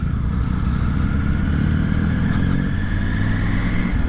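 Off-road adventure motorcycles including a BMW 1250 GSA and a Triumph Tiger Rally Pro ride together, engines droning steadily and loudly throughout with constant low rumble and road noise, no voices.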